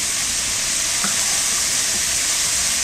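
Thin-sliced cauliflower and potato frying in a pan for a Konkani coconut milk pulao, giving a steady, bright, close sizzle throughout with a faint stirring scrape.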